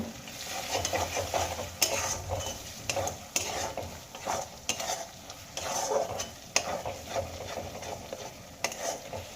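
Ground spices with a little cumin powder sizzle softly in a pan for a pea recipe as a spatula stirs and scrapes them in repeated close strokes, fairly quiet, with nobody speaking.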